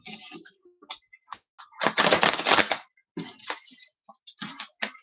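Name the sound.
shuffling tarot cards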